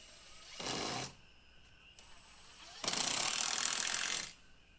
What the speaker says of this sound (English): This happens to be an impact driver drill